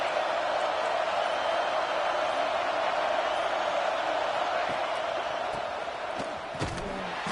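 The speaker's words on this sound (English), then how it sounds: "This crowd bringing the energy and noise early." A stadium crowd at a football game gives off a broad, steady roar that holds evenly throughout, with a few faint thumps near the end.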